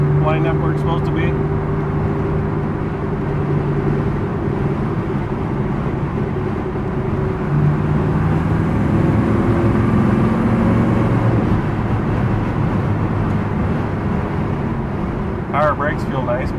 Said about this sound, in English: This is a strong running car.